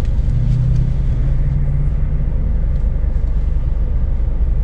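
Buses driving past near a checkpoint entrance at Sagan-Nur give a loud, steady low engine rumble with a faint tonal whine early on, close and continuous without speech.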